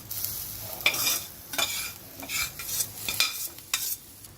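Beans and lentils for paruppu usili frying in a pan are stirred steadily, giving a soft sizzle broken by repeated close scraping strokes of a spoon against the pan.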